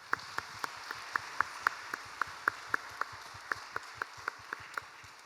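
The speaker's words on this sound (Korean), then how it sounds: "우리 하나님 앞에 영광의 박수 올려드립니다." Applause during an early-morning church prayer service, sounding as a short series of evenly spaced claps in a steady rhythm, fairly faint in a quiet room.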